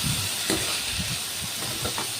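Finely chopped potato sautéing in a pan for poha, a steady soft sizzle and hiss with faint stirring scrapes, close and continuous with no talk.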